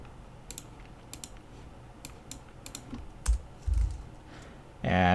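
Fingers tap on a computer keyboard while configuring a network switch, producing a few quiet, scattered clusters of keystrokes close by, with short pauses between bursts and a faint thump near the end.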